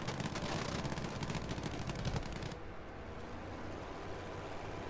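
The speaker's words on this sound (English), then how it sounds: "I'm getting shot by black cannons." Rapid, dense bursts of heavy aircraft cannon fire in Battlefield V rattle for a couple of seconds, then cut off abruptly, leaving a low rumbling background.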